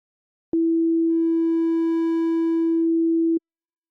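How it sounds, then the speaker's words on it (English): A single sustained synth tone from Arturia Pigments 5, starting as a pure sine and gradually opening into a bright harmonic-rich timbre as the waveform position sweeps, then closing back before a clean stop. "So what we want to do is affect the position of this waveform,"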